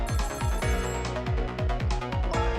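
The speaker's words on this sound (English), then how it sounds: "The phone is ringing. It's not for me." Telephone ringing in the video game Ghost Trick: Phantom Detective, a loud repeated electronic ring pulsing in quick bursts over game music, with no talk.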